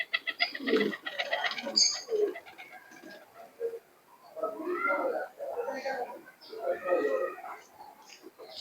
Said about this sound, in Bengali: দুটো টেডি কবুতর